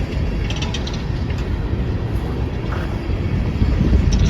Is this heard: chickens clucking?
no